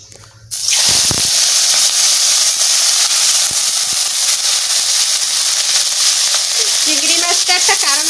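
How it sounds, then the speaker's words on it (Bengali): Fish frying in hot mustard oil in a kitchen gives a loud, steady sizzle and hiss that starts abruptly after a brief quiet moment and continues without a break. "এই মাছটা ভাজা করে নেবো"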